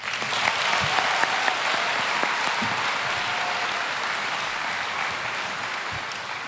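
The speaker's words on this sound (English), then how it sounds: "I wanted a big round of applause for our class" Sustained applause from a large crowd at a high school graduation ceremony, many hands clapping steadily without pause.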